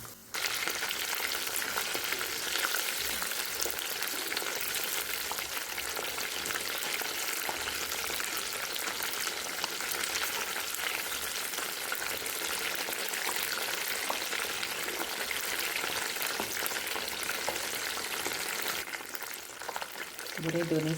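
Snacks deep frying in hot oil in a home kitchen, a dense, steady bubbling sizzle that holds loud and even throughout.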